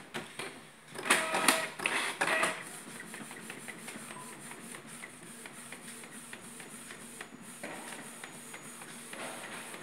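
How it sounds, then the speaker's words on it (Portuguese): A Canon G3110 inkjet printer runs a print job, starting with a few louder shuffling paper-feed bursts and then settling into a quieter, steady mechanical whir and ticking of the print head, heard up close. "Isso para imprimir aqui. Imprimindo."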